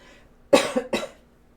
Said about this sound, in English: I don't know why I'm coughing so much either